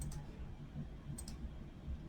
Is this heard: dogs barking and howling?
no